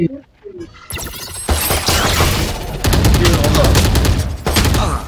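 Rapid automatic gunfire in a shooting video game, loud and continuous bursts fired at a bot, with a brief pause and then more sustained firing, while players' voices sound over the shots.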